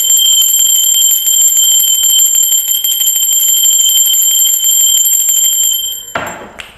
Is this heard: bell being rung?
yes